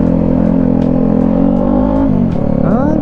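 An FKM 3GP motorcycle engine runs loud and close, holding a steady buzzing rev, then dipping and climbing back up near the end.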